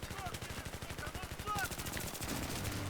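Rapid automatic gunfire in a shooter video game, a steady rattling burst running throughout, with faint speech-like game sounds underneath.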